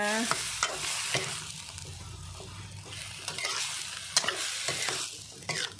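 Ingredients are stir-fried together in a pan for a quick Thai one-plate meal. A steady close sizzle runs under scattered sharp scrapes and clacks of the spatula, with no talking.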